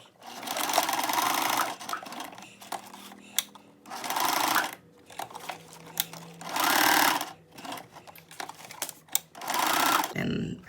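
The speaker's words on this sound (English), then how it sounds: "I've just overlapped it and I'm just gonna sew like a box basically." A sewing machine stitches a box shape through overlapped elastic joined into a loop, running in loud bursts of rapid stitching separated by short pauses.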